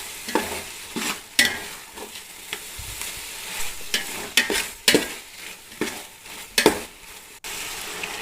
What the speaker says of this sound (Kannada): ಇವಾಗ ಒಂದು ಚಿಟಿಕೆ ಅರಿಶಿಣ, ಸ್ವಲ್ಪ ರುಚಿಗೆ ತಕ್ಕಷ್ಟು ಉಪ್ಪನ್ನ ಸೇರಿಸ್ಕೊಂಡು ಮತ್ತೆ ನೀಟಾಗಿ ಫ್ರೈ ಮಾಡ್ಕೊಳ್ಳೋಣ